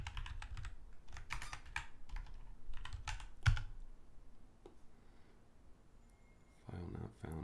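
Rapid bursts of typing on a computer keyboard, clattering keys in uneven runs with a sharp thump partway, quieter pauses, then another flurry, while a person talks.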